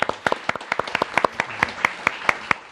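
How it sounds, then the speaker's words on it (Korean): A small studio audience at a lecture show claps briefly, with sparse, distinct hand claps close by and no talk over them. "박수 부탁드립니다."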